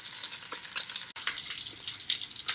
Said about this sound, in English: As you can see, she's sizzling nice and good.